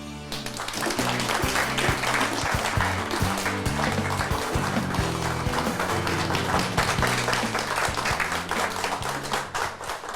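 A studio audience at a Korean Christian talk concert applauds to welcome a returning professor, with dense, sustained clapping from many hands and a continuous low tone underneath.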